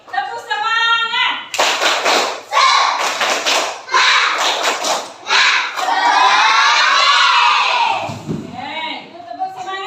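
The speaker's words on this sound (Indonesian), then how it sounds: "Sekali lagi, tepuk semangat." A class of schoolchildren claps and shouts through the 'tepuk semangat' spirit chant again, with loud rhythmic bursts of clapping and voices that swell into a long sustained group shout, close and energetic.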